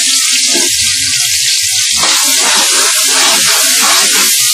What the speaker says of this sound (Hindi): 100 ग्राम ही कटा हुआ प्याज शामिल करते हैं। इसको हमने नरम होने तक फ्राई करना है, ब्राउन नहीं करना।